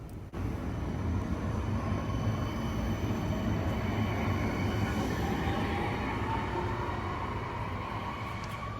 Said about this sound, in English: Here is a tram departing from the stop as we got there.